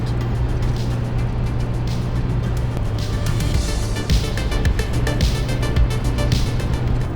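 A Suzuki Jimny travels alone along the road to the North Cape, giving a steady, close engine drone and broad road and tyre rumble that holds at even loudness throughout.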